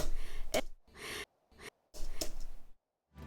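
Several close breaths between vocal lines in a quiet vocal recording, sharp inhales and airy exhales separated by short silences.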